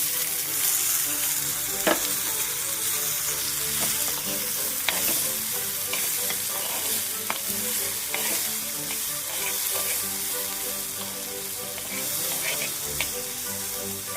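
Beans frying and being stirred in a pan for a beans and toor dal curry: a steady, close sizzle of hot oil with repeated scraping and clinking from the stirring spoon, heard alone.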